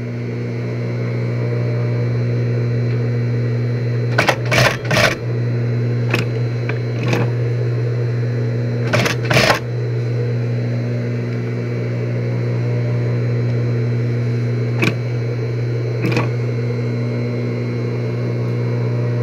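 A sewing machine topstitches the cuff of a women's blouse, its motor giving a steady droning hum for the whole stretch, broken by a few sharp clicks and clatters in short bursts.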